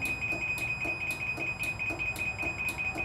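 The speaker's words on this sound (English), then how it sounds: "It takes usually a second, but then it starts beeping." LiftMaster MyQ garage door opener sounding a steady run of loud, evenly spaced high warning beeps, roughly four per second, with no voices over them.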